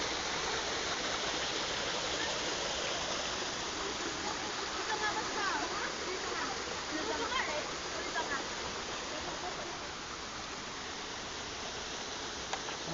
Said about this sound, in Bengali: এখান থেকে ঝর্ণার জল আসছে